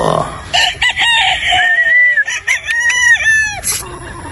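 Gamecock rooster, a broodstag-quality sweater-Boston cross, crowing loudly and close in a long drawn-out call, with a few clucks around it and a voice briefly at the start.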